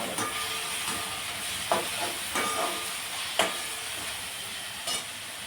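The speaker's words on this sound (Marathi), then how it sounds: "आता मी इथं एक टोमॅटो घालून घेते कट केलेला आणि टोमॅटो बी परतून घेऊया" Chopped tomato sautéed with onion in a pan for an okra (bhendi) curry makes a steady loud hiss and sizzle, with a few brief crackling pops.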